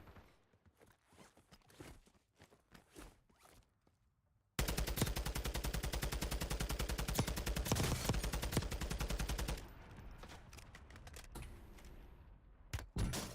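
Gunfire from the video game Warzone: a dense burst of rapid automatic shots starts abruptly partway through, keeps going for several seconds, and then trails off into quieter single shots and movement sounds.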